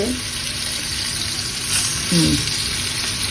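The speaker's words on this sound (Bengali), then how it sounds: "লবণ একটু হলুদ দিয়ে ভেজে দাও তো" Hilsa fish frying in hot oil with salt and turmeric, a steady close sizzle running throughout with a brief louder crackle near the end.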